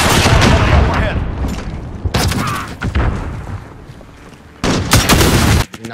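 Gunfire in a firefight: several bursts of loud, sharp shots and booms, some in quick clusters, with quieter rumbling gaps between them and no clear speech.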